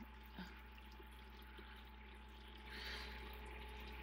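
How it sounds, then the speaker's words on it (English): Water drains and gurgles steadily in a tabletop ebb and flow hydroponics system, with a constant low pump hum beneath it, rising slightly louder near the end. "it's draining down to the bottom after the water reaches a certain level here, and that's your ebb and flow system"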